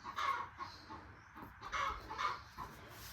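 A broody hen clucks close by in the morning, giving short repeated throaty bursts in an irregular rhythm.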